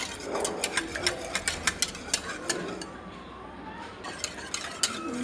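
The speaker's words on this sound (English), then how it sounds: "Mix it in a pan." Cupcake batter being mixed in a pan, with repeated light scraping and clinking taps of a utensil against the metal in an uneven rhythm, fairly quiet and close.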